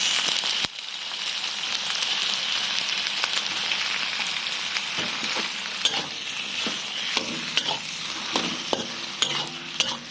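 Chicken for an oyster sauce dish frying in a pan gives a steady, bright sizzle, broken by sharp clacks and scrapes as it is stirred, with no talking.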